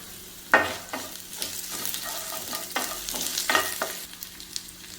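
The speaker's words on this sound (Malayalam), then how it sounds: "നമുക്ക് വറ്റൽമുളകും കറിവേപ്പിലയും കൂടെ ചേർത്ത് കൊടുക്കാം" Dried red chilies and curry leaves hit hot tempering oil, giving a crackling sizzle punctuated by several sharp pops and spatula scrapes over a few seconds.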